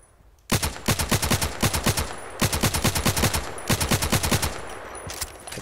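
Rapid automatic gunfire in the online shooter Contract Wars, three loud sustained bursts of evenly spaced shots with short pauses between, close and dominant with no talk over it.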